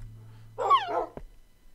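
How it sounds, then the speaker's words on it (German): A single short bark from a dog in the video game Minecraft, clear and close, comes over a faint steady hum and is followed by a brief click. "Hunde."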